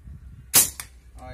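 A PCP air rifle fires a single sharp, loud crack, and moments later a fainter impact follows as the pellet strikes a can about 70 metres away, set against quiet outdoor background noise.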